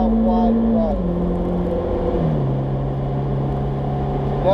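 A car's engine on a race track pulls hard as the throttle is rolled on downhill, a loud droning tone stepping down through shifts under steady road and wind noise.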